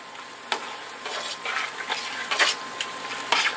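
Sausage fries in a pan while a spoon breaks it up, giving a gentle steady sizzle with intermittent scraping and stirring strokes, no voices.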